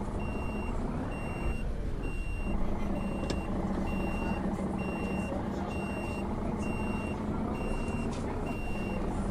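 A bus in OMSI 2 reverses with a loud, evenly spaced electronic beep repeating over steady engine rumble, about a dozen beeps in a row.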